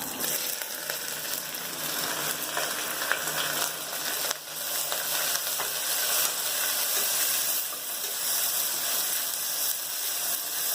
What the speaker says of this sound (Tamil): இந்த ஸ்டேஜில் நம்ம வெங்காயத்தை ஆட் பண்ணிக்கலாம்